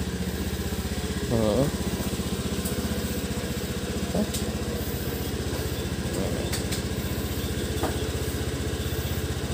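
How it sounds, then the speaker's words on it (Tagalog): A motorcycle engine idles steadily as it warms up before a ride, a close, continuous low rumble with a brief louder rev near the start and a short spoken reply over it. "So pinapainit na natin yung motor."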